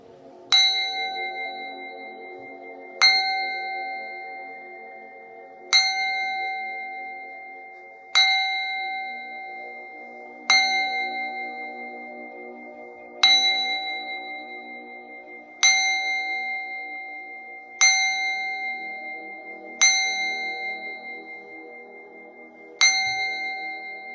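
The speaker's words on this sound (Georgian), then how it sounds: "ტრადიციულად უნდა დავუკრათ ჩვენს ტიბეტურ თასზე" A Tibetan singing bowl is struck nine times at a steady, unhurried pace, and each strike sets off a clear, bright ring. The tone sustains and fades slowly before the next stroke, so the rings overlap into a continuous shimmering hum with no voices.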